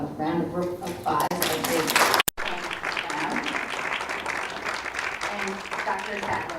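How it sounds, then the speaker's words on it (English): An audience at a lecture gathering breaks into applause that swells over a man's speech, a burst of clapping continuing at moderate loudness after a brief dropout, with talk audible underneath. "So we give a round of applause."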